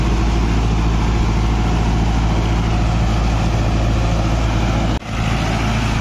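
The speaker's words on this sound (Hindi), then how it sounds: "बड़ा एक फ्रीली टाइप का ट्रैक्टर चल रहा है" A Novo 655 tractor pulling a 9-foot rotavator, its engine droning loud and steady with a heavy low rumble, one brief dip near the end and no talk.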